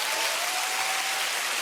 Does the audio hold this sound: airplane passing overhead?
no